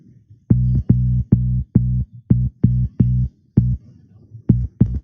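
Synth bass line shaped by a filter envelope, playing about a dozen short, punchy, evenly pulsed notes with a bright attack that drops quickly, loud and alone.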